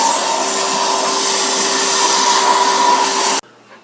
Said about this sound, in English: we get the hoover on that